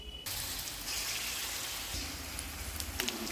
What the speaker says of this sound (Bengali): প্রত্যেকটা মাছ আমাকে এরকম ডিপ ফ্রাই করে নিতে হবে।